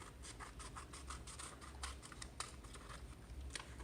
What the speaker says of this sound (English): you're going to start following the inside line right here where my scissors are, and just cut it all the way through to the center